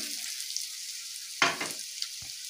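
Crushed garlic cloves and chopped green chilli stir-frying in a pan for a Bengali curry; a soft hiss underlies a sharp scrape of the spatula at mid-clip and a brief knock near the end.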